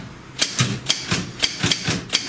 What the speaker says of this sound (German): das war in der analogen Welt echt kein Zuckerschlecken mit Schreibmaschine